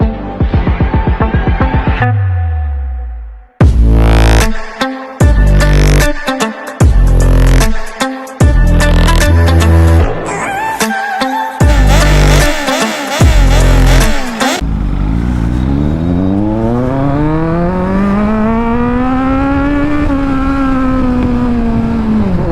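A Kawasaki ZX10R motorcycle engine is blipped in a series of sharp, loud revs with short gaps between them. It then pulls away in one long, rising and falling wail that fades as the bike moves off. No voices are heard.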